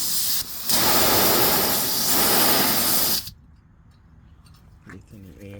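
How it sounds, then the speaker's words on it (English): Compressed air bursts loudly from the drain valve of an air horn tank on a 2021 Toyota Tacoma, a strong steady hiss lasting about three seconds before cutting off abruptly, followed by quiet background and brief talk. "Releasing the air."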